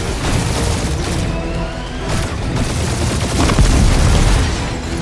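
Dense, continuous combat din from Marvel's Guardians of the Galaxy, with loud overlapping gunfire, booms and crashing blasts filling the whole stretch without pause.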